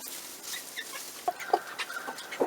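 Young chickens clucking outdoors in cold weather, a scatter of short close clucks and chirps that grows busier toward the end, no voices.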